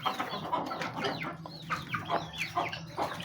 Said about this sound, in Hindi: तो देसी मुर्गियां भी मौजूद हैं इस वक्त